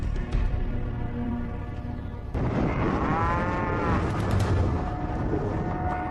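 Cattle low in a remote pasture three hours north of Phoenix, a drawn-out moo carrying over a broad, rumbling outdoor background with no talk.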